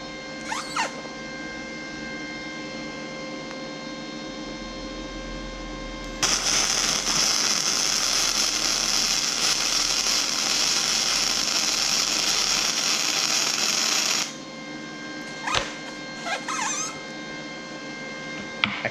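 An Ozito 100 amp MIG welder runs a steady crackling, buzzing arc at a low voltage setting for about eight seconds, loud and continuous, with quieter hum and a few brief clicks before and after.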